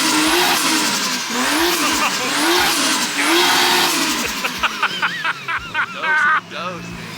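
Toyota JZX engine revving hard on a dyno, a loud sweeping roar rising and falling in repeated pulls, then choppy bursts with turbo flutter near the end as people talk over it.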